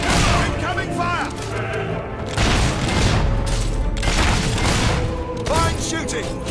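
Battle from Fable III with repeated heavy booms and bursts of incoming gunfire, loud and close, recurring in waves every second or two amid a dense din.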